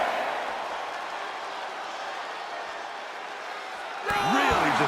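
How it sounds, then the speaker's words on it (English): Roaring crowd at a wrestling arena in a video game, a steady dense wall of cheering noise that swells louder near the end as sharper shouts and hits break through. "The sound of this crowd is deafening, and he's asking for more."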